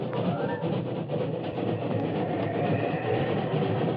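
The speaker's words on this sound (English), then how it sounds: "When the lumbering freight slowed at the switch outside the city, Jack Jeffries, the sailor, rolled out in th" A lumbering freight train rolls steadily on the rails in a cold, snowy setting near a mountain switch, a dense continuous rumble and clatter close by, with no voices over it.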